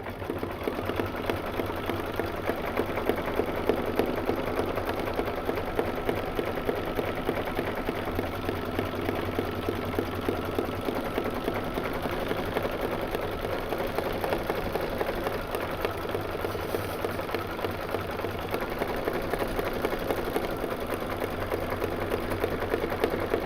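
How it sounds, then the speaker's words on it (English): A sewing machine runs steadily for the whole stretch, stitching several fabric pieces in one pass, with an even mid-level hum and needle rhythm and no voices. "I'm just going to stitch them all at once"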